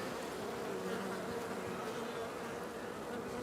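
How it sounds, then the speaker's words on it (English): Honey bees buzz at a hive in a continuous, dense drone of many insects, steady and fairly close, with no voices. "So these are the bees here. They're just doing what bees do."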